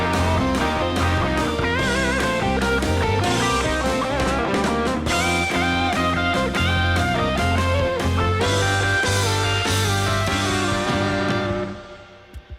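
A loud, dense rock band plays throughout while a lead electric guitar solos over the top, the music fading out at the very end.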